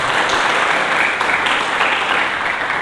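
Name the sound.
audience applause in church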